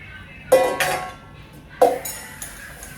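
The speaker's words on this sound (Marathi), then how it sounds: "जेवण करताना काही निघालेली भांडी घासून घेते" Dishes clatter and clink a few times at close range, with brief metallic knocks and quiet pauses in between.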